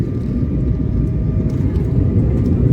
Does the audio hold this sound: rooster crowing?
no